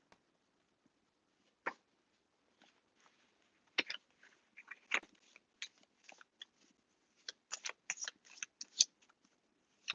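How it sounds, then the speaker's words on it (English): Playing cards riffle-shuffled by hand at a live table: scattered crisp, papery bursts of flutter and snapping, sparse at first and then coming in quick clustered runs, close and fairly quiet with no talk. "let me get a couple riffles in"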